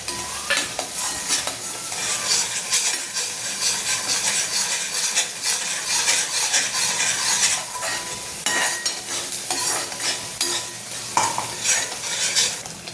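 Turmeric, salt, red chilli powder and black masala stirred in a hot pan for a mixed vegetable dish, busy scraping and clattering of a spoon against metal over a constant sizzle, close and lively throughout, no voices.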